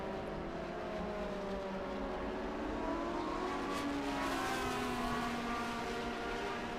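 Vintage race car engines drone and rise in pitch as they pass by at Road America, a steady motor roar swelling and fading over several seconds.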